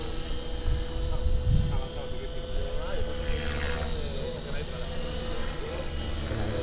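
A small electric radio-controlled helicopter's rotor whines steadily nearby, a continuous buzzing hum with faint voices underneath.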